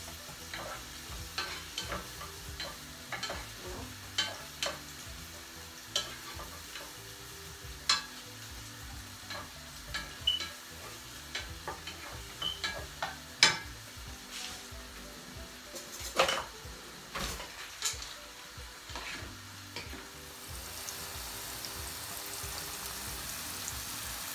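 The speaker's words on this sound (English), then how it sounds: "So look, onion is little bit braised." Onion fries in a pan with a steady close sizzle, scattered sharp crackles and pops across about twenty-four seconds, with no voices.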